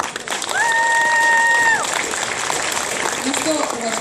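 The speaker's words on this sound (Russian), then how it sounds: "Поприветствуем аплодисментами всех команд." An audience claps and cheers loudly for a few seconds, with a brief electronic tone sounding over the applause before it fades into crowd noise.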